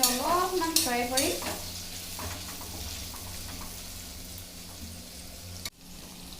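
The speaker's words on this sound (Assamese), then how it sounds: "এতিয়া বিলাহীখিনি অলপমান ফ্ৰাই কৰি" Tomatoes fry in a hot pan for Assamese sour fish curry, a steady soft sizzle with scraping stirs near the start, then a quieter even hiss, ending with a short knock.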